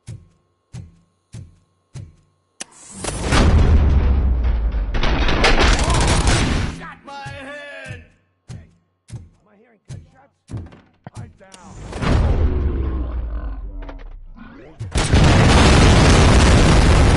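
Gunfire and detonating explosives in the video game Robocop: Rogue City: a string of sharp single shots, then long loud roaring blasts and bursts, with a voice talking briefly in between.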